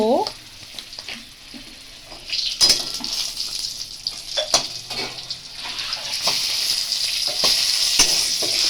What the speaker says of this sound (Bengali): ভালো করে ভেজে নিতে হবে প্রথমে আমি তেলের উপরে দিয়েছি লঙ্কা তারপরে রাঁধুনি